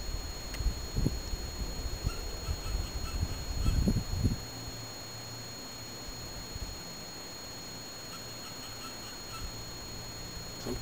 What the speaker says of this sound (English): Some kind of bird, I think.